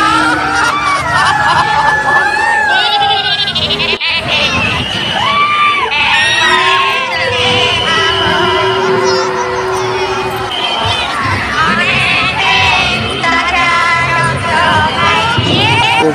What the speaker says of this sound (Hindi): भीड़ तो बहुत ज़्यादा हो चुका है, कचर कचर हो गया पूरा